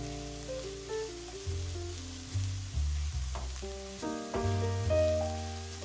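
Garlic hits frying, translucent onions in a pan and sizzles in a soft, steady hiss beneath louder, stepped background music.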